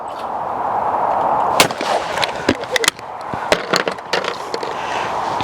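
Browning XS shotgun shooting clays, a series of sharp, irregular cracks and pops over a steady outdoor background, some shots loud and close and others fainter, with no clear voices.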